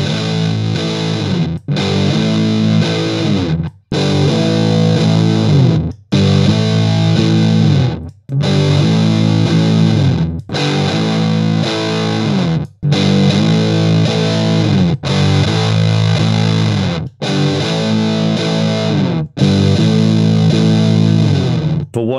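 An Electro-Harmonix Big Muff fuzz pedal cranked up drives electric guitar into thick, loud distortion, with heavy chords ringing in roughly two-second bursts separated by short, sharp breaks.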